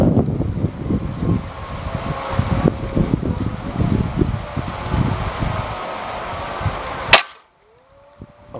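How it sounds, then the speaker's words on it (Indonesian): Strong outdoor wind batters the microphone at an air-rifle accuracy test, giving a continuous low rumbling buffet with gusty surges. A sharp crack comes near the end, followed by sudden near-silence. "jadi gesernya itu karena di sini anginnya sangat kencang sekali"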